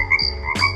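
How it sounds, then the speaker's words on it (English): A Dekala smart wake-up lamp plays a frog ribbiting sound, two quick croaks in succession over a steady tonal background, close and clear with no talking. "this nice little frog ribbiting there"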